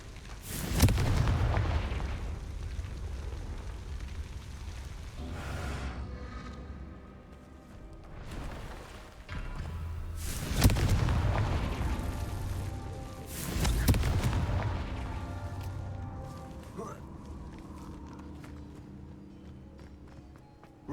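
Confringo fire spell from Hogwarts Legacy bursts in a string of booming explosions, four or so loud hits spread out with rumbling decay and quieter game ambience between them.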